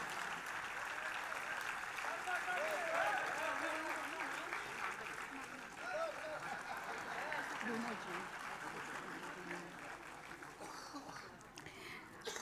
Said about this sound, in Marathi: टाळ्यांचा गजर जोरदार करूया.